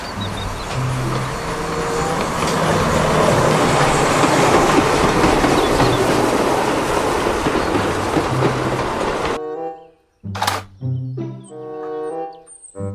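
A Thomas toy train rolls along in a steady, loud rumbling clatter with rhythmic clicking for about nine seconds, then stops abruptly, leaving short electronic tones and jingle-like notes from the toy.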